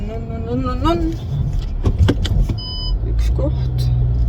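A car manoeuvring into a parking spot: a steady engine hum and road rumble with a few clicks and jangles, under a brief voice.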